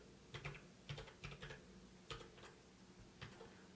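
A password typed on a computer keyboard gives soft, quiet key clicks in short irregular bursts, close by in a hushed room.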